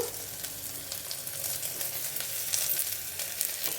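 Tomato and green chili frying in a pan, giving a steady close sizzle with a soft crackling texture and no voices.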